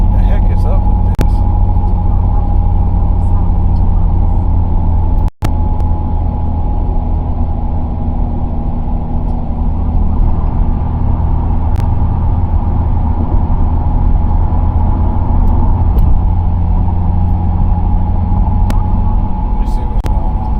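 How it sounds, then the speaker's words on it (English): Car rumbling and shaking while being driven, a steady low engine and road drone throughout with one brief sharp knock partway through. "Don't like my car shaking like that, man."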